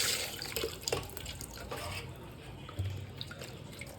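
Cut mutton lungs being washed in water, heard as close, continuous splashing and sloshing with a few sharper handling knocks and no talk.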